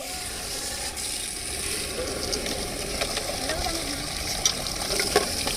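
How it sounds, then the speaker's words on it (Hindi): Water gushes from a makeshift jugaad pipe tap in a village in Purulia, a steady hissing flow heard beneath people talking nearby, with a few faint clanks. "जो पाइप ये निकल रहा है, यहाँ बीच में इन लोगों ने एक जुगाड़ सेट कर दिया है, पानी आ रहा है"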